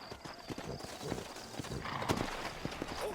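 Horse hooves clip-clop steadily in the Old West setting of the Red Dead Redemption video game, a brisk repeated rhythm of hoofbeats over a soft, continuous background.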